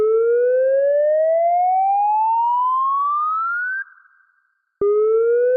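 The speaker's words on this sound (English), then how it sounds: "If you hear a wavering tone, please prepare to evacuate. This is what the sound will sound like." Flood warning siren gives a loud electronic tone that sweeps steadily upward over several seconds, cuts off briefly, then restarts low, a wavering alert signal heard alone and clearly.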